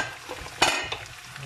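Onions and tomato sizzle in a pan for a lamb couscous sauce, with a brief scrape of stirring in the middle, close and short, no talking.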